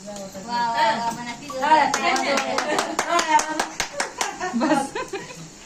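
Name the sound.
clapping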